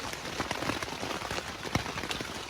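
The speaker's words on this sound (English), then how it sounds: "but it's been raining forever." Steady rain falling and pattering on surfaces nearby, a dense, even hiss of drops with occasional louder splashes, no voices.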